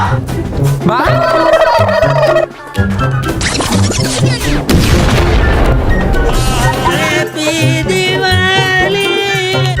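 A bomb explodes in a comic classroom skit, a loud booming blast bursting out mid-clip over busy background music.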